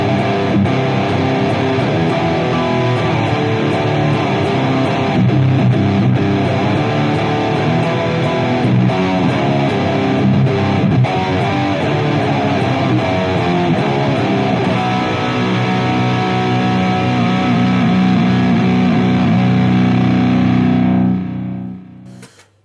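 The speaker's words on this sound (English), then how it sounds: "I will use a line 6 distortion, which is kind of a heavy distortion." A Line 6 James Tyler Variax electric guitar through a Line 6 heavy distortion plays thick, sustained chords and riffs, loud and unbroken, before cutting off abruptly at the end.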